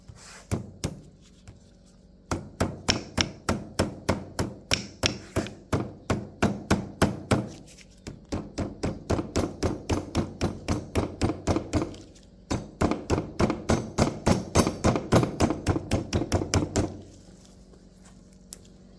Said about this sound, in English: Now we do want to go back and tap this down a little bit better.